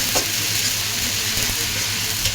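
Ginger and garlic frying in a pan for a cauliflower curry, a dense, steady hissing sizzle with a faint low hum underneath and a couple of soft clicks.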